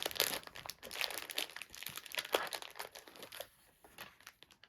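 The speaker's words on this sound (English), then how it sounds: "if you don't like the noise of rustles of plastic packets, you might want to go on mute" Plastic packets of craft supplies crinkle, rustle and tear open in close, continuous bursts at breakfast, busy at first and thinning to sparser crackles near the end, with no talking.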